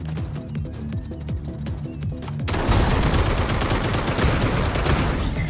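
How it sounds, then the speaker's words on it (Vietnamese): Gunfire from the Akimbot video game begins as separate rapid shots, then bursts into a dense, loud fusillade of continuous automatic fire with no talking. "Giờ chúng ta mới có thể xả súng thoải mái đây."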